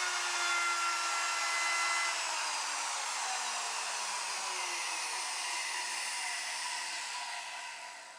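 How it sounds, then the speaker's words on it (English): A router fitted with a 3/8-inch rabbeting bit cuts a 3/8 by 1/4 inch rabbet into wooden doors for a TV stand, giving a loud, steady, close-up whine and rushing roar that holds for several seconds and then tapers slightly. "I've got a 3/8 rabbiting bit set up in my router, and I'm using that to cut a 3/8 by 1/4 inch rabbet"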